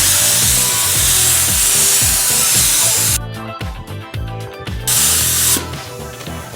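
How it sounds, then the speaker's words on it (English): A spray gun lays base coat paint onto a car for a small spot repair, a loud hissing spray in bursts with short pauses between passes. "I'm gonna hit it with the base coat"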